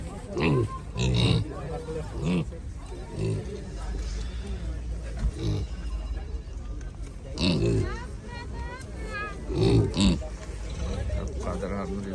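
Purebred pigs grunt and snort in short bursts close by, irregular and throaty, with people talking in the background.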